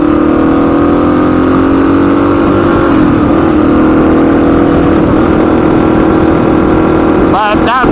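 A Honda XR motorcycle engine with a Keihin FCR39 pumper carburetor holds a loud, steady high rev for about seven seconds while warming up, then cuts out abruptly near the end.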